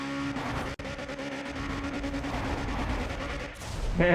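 Car engine in Need for Speed ProStreet revving hard against the rev limiter during a drag run, a loud, steady buzzing drone with a brief cut before the end.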